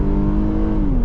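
Inside a 2023 Infiniti Q50 AWD on a night drive, the engine pulls at full throttle, a steady droning whir with a tone that slowly climbs.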